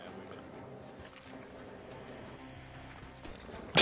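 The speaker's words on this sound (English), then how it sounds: "Let's get on the horse." Horse hooves clip-clop steadily in a video game, a continuous busy gallop under game sounds with a louder burst at the very end.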